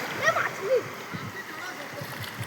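Water splashes and sloshes across a flooded village road after heavy rain, a continuous wet wash under people talking.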